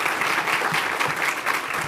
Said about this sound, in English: Let's give them all a big round of applause again.